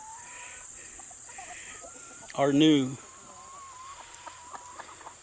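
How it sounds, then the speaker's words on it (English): Farmyard chickens, including young black hens and a dark red hen, cluck softly nearby, with a louder burst of clucking midway, while a person talks over them. "Any chicken you see that's black, except for that hen right out there,"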